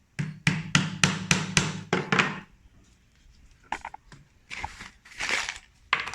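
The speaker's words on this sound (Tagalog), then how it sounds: "pakuin natin." Hammer blows driving a nail into a wooden stick, a quick run of about eight sharp, loud strikes, then a pause with softer knocks and handling sounds, and a few more taps near the end.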